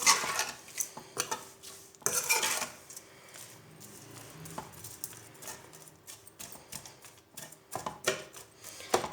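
Sweet vermicelli being stirred in a pot, with irregular scraping and clinking of a utensil against metal, sharp close taps separated by short quiet gaps.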